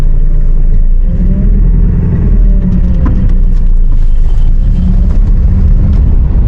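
A car engine rumbles steadily close by, rising slightly as the vehicle pulls away, with a continuous low road drone throughout.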